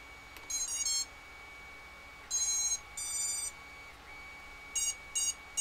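A DQUAD drone, its battery just plugged in, gives short bursts of high electronic beeps in irregular groups with pauses between them, clear and close over a quiet background hum, with no talking.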